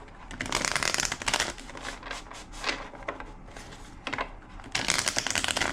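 A deck of tarot cards being shuffled in a love-reading session, with dense bursts of crisp riffling and flicking close by, pausing briefly around the middle before a final loud flurry, no voices.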